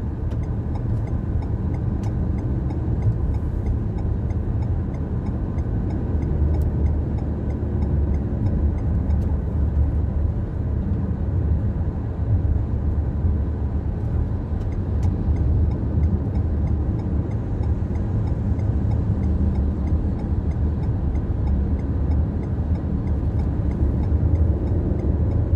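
Steady roar of busy road traffic on Riyadh's Eastern Ring Road, heard from inside a moving car, a continuous loud low rumble of engines and tires with no break.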